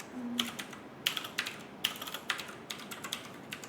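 Keys clack steadily on a computer keyboard while someone codes, a close, moderately loud run of quick taps in uneven bursts with brief pauses, and no talk.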